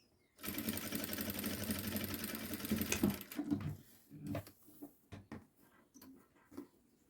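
A sewing machine stitches a seam on a child's outfit in one continuous fast, rattling run of about three seconds, then stops, leaving scattered fabric-handling clicks and rustles.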